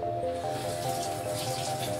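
Water from a sink tap runs steadily while small screws from a copper CPU waterblock are rinsed, a close, continuous splashing flow with no talk.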